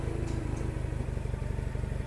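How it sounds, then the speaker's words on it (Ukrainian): A small Japanese mini tractor engine chugging at a steady rapid rhythm, with a faint rattle over it, close and continuous. "Далі бачимо, спускається до нас найдешевший тракторець із сьогоднішньої поставки."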